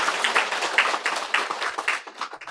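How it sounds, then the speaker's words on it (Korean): Audience applause welcoming a guest, a visiting academy president, at a church service; dense, steady clapping from a crowd throughout, with no speech. "큰 박수로 환영하도록 하겠습니다."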